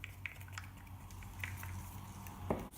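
Acrylic paint stirred together with pouring medium gives soft, wet squishing and slurping sounds, faint and close, with a few brief sticky clicks over about three seconds.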